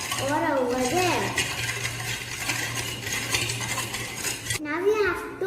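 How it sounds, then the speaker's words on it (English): A spoon stirs sugar into a homemade donut mixture in a bowl with steady scraping and clinking, and brief voice-like tones are heard at the start and end. "Now we have to mix it properly"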